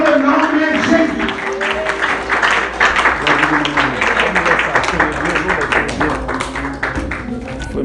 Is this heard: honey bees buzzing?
no